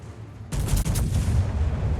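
A heavy naval gun salvo from the battleship Minnesota in World of Warships erupts after a half-second hush, a loud, dense roar of overlapping booms that rumbles on without a break.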